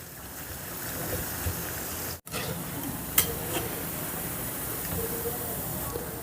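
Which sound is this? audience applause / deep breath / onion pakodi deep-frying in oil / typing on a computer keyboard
onion pakodi deep-frying in oil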